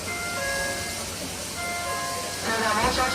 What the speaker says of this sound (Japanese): SL と客車連結するときに聞こえる合図となっております。